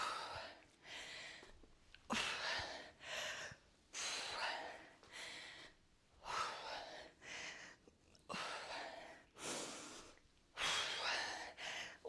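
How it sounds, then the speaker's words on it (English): Deep, audible breathing during a dumbbell workout: about eight long, loud inhales and exhales in a steady rhythm, close to the microphone, with no speech over them. "Deep breath in."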